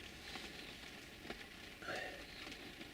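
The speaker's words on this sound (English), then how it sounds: "Oh, it's raining again." Steady rain falls and patters on a surface at fairly close range, forming a constant hiss with scattered drips and a brief louder splash, with no talking.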